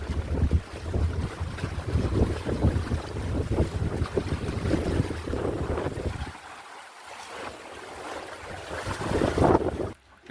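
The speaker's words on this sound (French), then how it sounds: "le vent est toujours là, même s'il est pas très puissant" Wind and water rush past a sailboat on a solo transatlantic crossing, a steady hiss of sea and wind noise that drops briefly before surging back louder.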